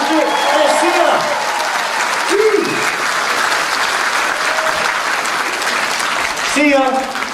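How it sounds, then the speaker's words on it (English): Audience applauding at a Stars In Their Eyes talent show in Gisborne, New Zealand: steady, dense clapping fills the whole stretch, with a voice and cheers rising over it now and then. "How about give a big round of applause, everybody?"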